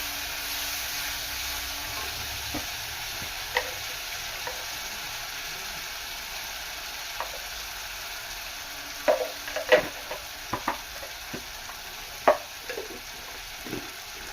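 Ground spice masala frying in a pan for a Nepali curry, a steady low sizzle running throughout with occasional scrapes and taps of stirring growing more frequent toward the end, no speech.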